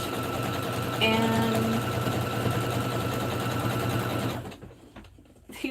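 A sewing machine back stitches a sweatshirt with a rapid, steady mechanical whir close by. A single spoken word breaks in, and the machine stops near the end, leaving quieter handling sounds.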